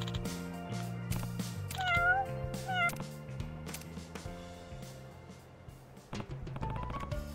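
A cat meows repeatedly in the Like a Dragon: Pirate Yakuza in Hawaii video game, rising, drawn-out mews standing out clearly over layered game music, with no talking.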